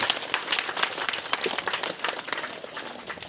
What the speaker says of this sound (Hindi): ताली बजेगी